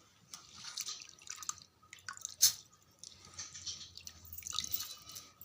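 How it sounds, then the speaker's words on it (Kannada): Soaked rice mixed with flattened rice is scooped into a mixer grinder jar in a home kitchen, making soft, wet squishing and dripping sounds at close range with a few sharper clicks. "ಇವಾಗ ಜಾರಿಗೆ ಅಕ್ಕಿಯನ್ನು ಹಾಕ್ತಾಯಿದ್ದೀನಿ"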